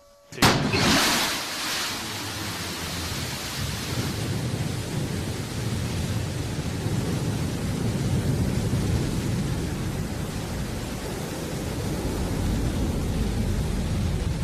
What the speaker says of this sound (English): And we have liftoff. Go, New Shepard, go. Beautiful liftoff from our launch site 1 in West Texas.